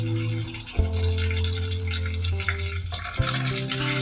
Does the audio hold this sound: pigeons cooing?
no